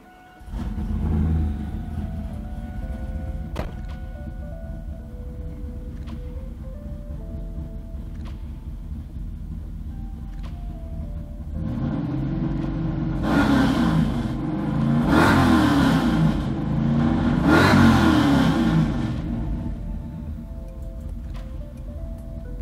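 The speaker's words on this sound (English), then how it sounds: "we're gonna start it back up and do one more rev test" Car engine on a vehicle with a Tick Performance adjustable clutch master cylinder idles steadily, then revs up three times in close succession before settling back to idle, loud and close with no talking.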